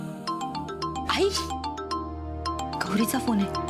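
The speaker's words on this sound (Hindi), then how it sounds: "गौरीचा फोन आहे." Mobile phone ringtone ringing indoors during a Marathi TV serial scene, a chiming electronic tune repeating steadily under background music, with people talking over it.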